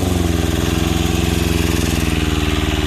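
An old Japanese Yanmar two-cylinder diesel engine, converted for farm use, runs steadily nearby with a loud, even, pulsing chug throughout.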